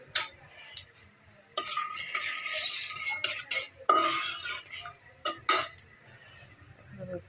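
Five-spice seeds go into a hot pan for a bean and onion-leaf stir-fry and crackle up in bursts of sizzle. Sharp utensil taps and scrapes come close and irregularly between quieter pauses.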